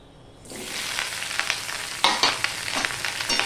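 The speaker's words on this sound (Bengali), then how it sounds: "এবার আমি ভেন্ডিগুলো ভেজে নেব।" Washed, cut okra (bhindi) hits hot oil in a pan and starts frying, a near, steady sizzle that swells after a quiet start, with occasional crackles and stirring scrapes.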